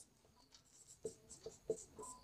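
Marker or chalk writing on a board in a maths classroom, a few short scratchy strokes with small taps, faint and close, no talk.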